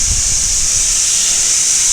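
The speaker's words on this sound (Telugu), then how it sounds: "ఎంత చల్లడి గాలి వస్తుందో" Cold wind blowing hard during a rainstorm in Hyderabad, a steady, loud, close rush with a hissing edge, continuous with no breaks and no voices.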